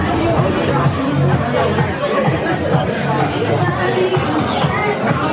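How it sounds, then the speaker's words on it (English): Crowd chatter fills a room at the Featherstone Rovers club before a comedy show, a dense, constant babble of many voices close by, with no pauses. "Sounds like a good crowd out there anyway"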